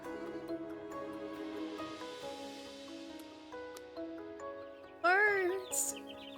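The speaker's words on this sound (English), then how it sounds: "Birds!" Electronic music from the video game Upwards, Rain! plays with sustained tones, then a bright burst of synthetic bird chirps near the end.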